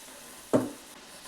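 A battered Hubballi-Dharwad-style green chilli bajji fritter is dropped into hot oil, giving one sudden, brief sizzling splash that fades quickly into a faint, quiet bubbling.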